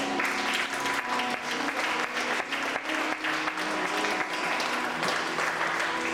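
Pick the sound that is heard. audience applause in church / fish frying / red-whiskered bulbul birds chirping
audience applause in church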